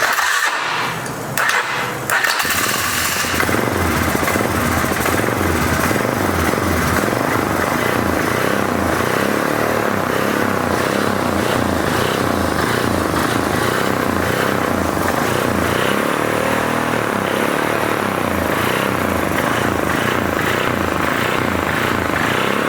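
A 2003 Polaris Sportsman 500 ATV engine after an engine swap cranks briefly, then catches and runs with a steady, loud, close droning roar that holds for over twenty seconds.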